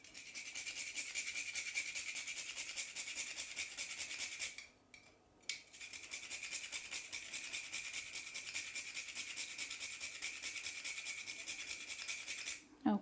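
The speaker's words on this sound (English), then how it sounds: "I'm going to add some nutmeg, grated," Whole nutmeg rubbed against a fine grater, a steady rapid scraping rasp that runs continuously, pauses briefly about a third of the way in, then resumes at the same even pace; quiet and close, with no talking.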